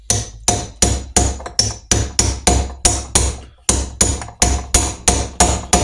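An old box spanner is hammered repeatedly onto a crankshaft pinion during a Norton Commando engine rebuild, giving a loud, close, steady run of metallic taps about twice a second with one short pause midway.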